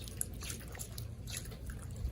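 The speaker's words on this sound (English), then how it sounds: "I'm just going to pour a bunch of water on it." Water poured onto an Acer Chromebook 315 laptop outdoors on a cement pad, giving a continuous splashing, dripping wash with small irregular spatters, moderately faint.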